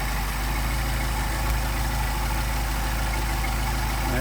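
Car engine with a Solex carburetor idling steadily while the idle mixture screw is adjusted, a constant close, even rumble with no talking.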